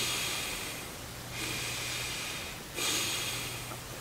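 Slow, deep breaths, a long airy inhale and exhale repeated in a steady cycle, close and fairly loud, with no talking.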